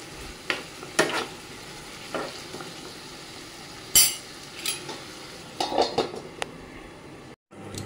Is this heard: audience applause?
no